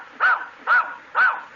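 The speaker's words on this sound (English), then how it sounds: "Hey, what a smart dog." A dog barks three times in an even rhythm, close and clear, answering an arithmetic question with no other sounds around.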